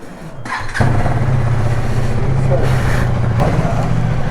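A motorcycle engine cranks and catches, then settles into a loud, steady idle rumble close by.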